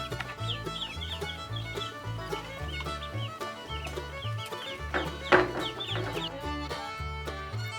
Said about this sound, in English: Now enjoy some video of the ducks now that they've arrived.